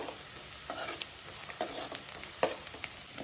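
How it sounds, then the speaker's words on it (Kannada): Onions frying in a pan, a soft steady sizzle broken by a few scraping stirs of a spatula, close but quiet, with no voices. "ಈರುಳ್ಳಿ ಸ್ವಲ್ಪ ಹಸಿ ವಾಸನೆ ಹೋಗೋ ತನಕ ಇದನ್ನು ಫ್ರೈ ಮಾಡ್ಕೊಳ್ಬೇಕು"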